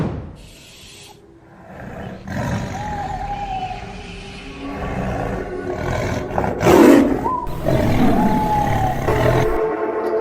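A tiger's roar in a drama film set at Lake Toba, loud and close, rising in a burst around the middle amid broad rumbling and dramatic background sound, with no talking.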